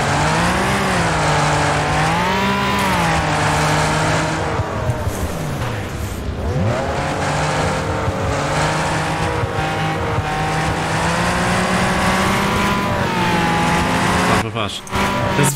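Race cars roar through a couch racing video game, engines whining and shifting pitch continuously with a sustained loud drone, while a commentator talks over the gameplay.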